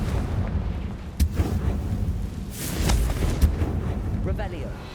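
Confringo blasting spells detonate in Hogwarts Legacy, a few sharp booms and crackling bursts over a constant low rumble of game sound, with a voice talking throughout.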